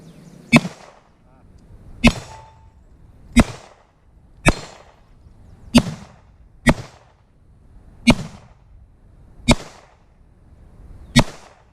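Springfield Armory XD .40 caliber pistol fires nine evenly spaced, sharp, loud shots at an outdoor range, each crack followed by a short echoing tail, with quiet pauses between.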